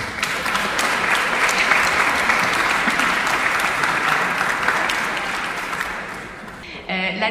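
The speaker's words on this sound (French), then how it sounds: "Vous pouvez les applaudir." Conference audience applauding, a dense steady wash of clapping that holds loud for several seconds, then fades and gives way to a voice at the end.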